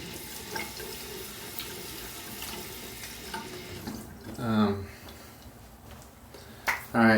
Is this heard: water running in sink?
yes